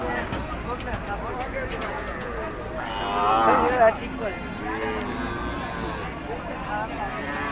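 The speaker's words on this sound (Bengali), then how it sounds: "এগুলো সব জার্সি গরু।" Jersey cows low at a busy cattle market, with one loud moo rising over a crowd of voices and general market chatter.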